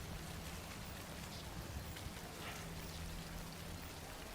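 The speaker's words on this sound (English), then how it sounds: "rain ruins everything" Rain falls steadily in Death Stranding, a soft, even hiss of drops heard faint and unbroken over a few seconds.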